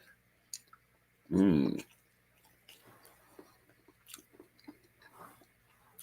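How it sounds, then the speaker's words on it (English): Breakfast of scrambled eggs and sausage being eaten during a snowy day: a loud burst of close chewing, then softer scattered clicks and bites, with quiet background noise. "I'm going to have my breakfast."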